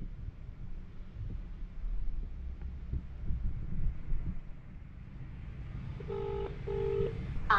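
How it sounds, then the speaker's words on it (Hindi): A phone call being placed: a long stretch of faint wind and handling noise, then a short series of quiet electronic tones near the end as the call connects and rings. "एक बार मैं इसे कॉल लगाता हूँ,"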